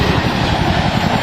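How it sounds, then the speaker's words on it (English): Loud, steady low rumble with a dense roar throughout from a Boeing MH-47E Chinook twin-rotor helicopter flying close by at a military open house. "This is the Boeing helicopter"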